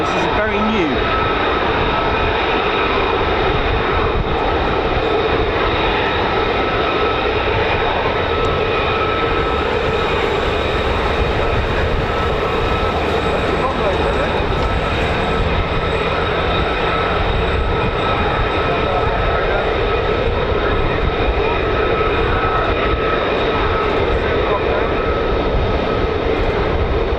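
F-35 fighter jets at RAF Lakenheath, a loud, unbroken engine roar with a steady high whine running through it, and voices faintly present underneath.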